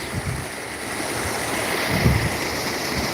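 Clear creek water flows steadily in Oyster Creek Park, a continuous rushing wash heard alone, with a slight swell near the middle.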